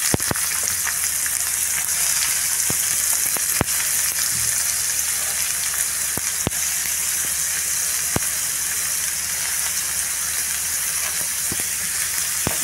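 Onion and long-cut green chili sizzling in oil in a pan, a steady close frying hiss with soft crackles running the whole time and no talking.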